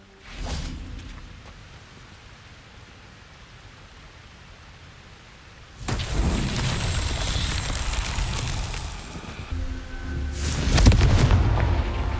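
Confringo fire spell blasts in Hogwarts Legacy, two loud broadband explosive bursts with a rumbling tail, separated by several seconds after a quieter ambient opening.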